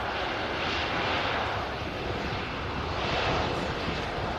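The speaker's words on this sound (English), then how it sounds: "Another aircraft, EasyJet there, heading over to Schiphol, second on the bounce, following the KLM." An EasyJet airliner passes overhead at Manchester Airport, its broad, steady engine roar filling the scene at close range with a gentle swell and fade, no voices present.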